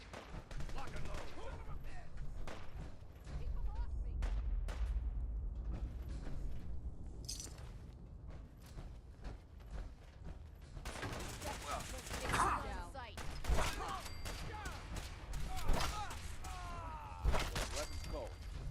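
Gunfire in the post-apocalyptic video game Fallout 4 rattles in irregular shots and bursts amid clanking mechanical sounds, loud at moments and fainter at others, with brief voices mixed in.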